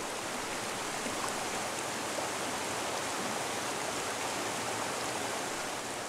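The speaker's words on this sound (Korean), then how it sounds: "옛 사람들이 즐겨 찾고 이름까지 붙여 칭송했던 이 골짜기의 맑은 물은 예나 지금이나 이렇게 흘러 낙동강으로 흘러갑니다" Clear mountain stream in a valley gorge on Sobaeksan, a source of the Nakdong River, flowing steadily with a dense, even rush of water that stays close and constant throughout, with no voices.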